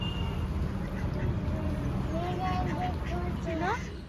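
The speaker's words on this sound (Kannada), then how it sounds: "ಕೇಳಿಸ್ತಿದ್ಯಾ ಪಿಕಾಕ್ ಸೌಂಡ್" A peacock gives a rising, wailing call in short bursts toward the end, heard over a steady outdoor rumble and people talking nearby.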